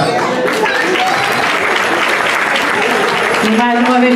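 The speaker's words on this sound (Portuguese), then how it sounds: "muito obrigado" Sustained applause from an audience at a Christmas party of the Lira de Fátima band, loud and dense throughout, with voices audible over it and a tone rising near the end.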